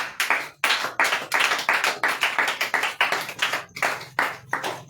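Church congregation in Burkina Faso clapping in rhythm to acclaim the Lord, a steady, loud run of sharp hand claps close by, with no talking over it.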